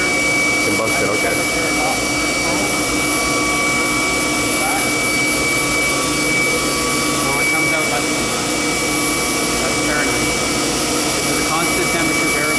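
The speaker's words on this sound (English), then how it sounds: "It's a constant temperature, variable speed engine." A cogeneration engine at a mechanical facility, a constant-temperature, variable-speed unit, runs with a loud, steady, roaring whine and high tonal hum that fills the whole stretch without letting up.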